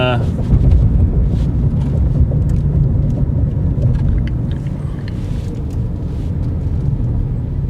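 A 2010 Mitsubishi Lancer drives along the road with a steady, loud low engine and road rumble throughout, wind buffeting the microphone, while someone talks over it.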